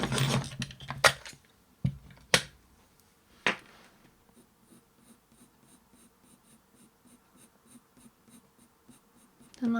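A graphite pencil strokes paper, drawing fur lines for cat artwork. Several quick, firm scratchy strokes come close up early on, then fade to faint intermittent scratching.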